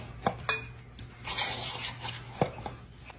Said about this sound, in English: Just put all of that right into the bowl. And we will scrape all of this out.